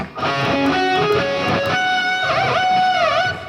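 A bright, distorted electric guitar lick with quick picked notes and bends, then wavering vibrato notes, loud and continuous with no voice.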